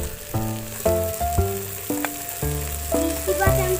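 Red lentils tipped into a pan of rice already frying with spices for khichuri, giving a loud steady sizzle with a series of brief clinks and scrapes as the pot is worked, no voices.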